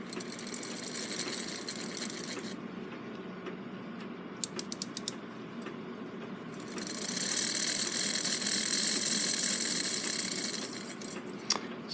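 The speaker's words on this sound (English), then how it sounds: "the advance mechanism on the count wheel works just fine" A Seth Thomas 30-hour clock movement whirs mechanically as its count wheel advances, with a steady gear rattle, a brief burst of sharp ticking clicks midway, then a louder grinding run of the train before settling.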